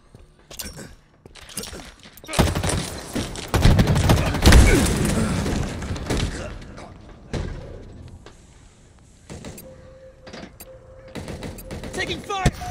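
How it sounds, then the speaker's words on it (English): Gunfire in a Halo Infinite Slayer match on the Bazaar map: loud clustered bursts of shots and impacts in the middle, fading into scattered sharp reports and quieter ambience, with game voices around. "Taking fire"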